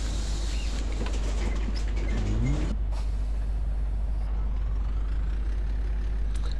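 Mercedes 365G bus in the Cities in Motion video game pulling away from a stop on its line, a steady low engine drone with a brief hiss around the middle, heard alone.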